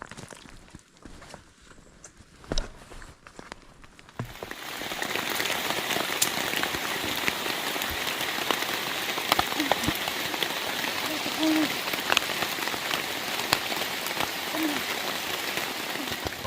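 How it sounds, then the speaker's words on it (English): A heavy rain downpour drums steadily on a tent on a mountain trail in Maine, starting with light drops and then swelling into a dense, loud, continuous patter with no talk. "we are in our tent because we got hit with a downpour"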